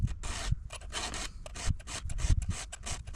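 Chainsaw chain teeth sharpened with a hand file, close rhythmic rasping strokes in quick succession with brief gaps between passes.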